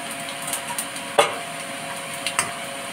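Whole cumin and asafoetida crackle in hot oil with green chilli, a steady sizzle broken by sharp spatula clicks, one louder stroke in the middle and a few fainter ones after.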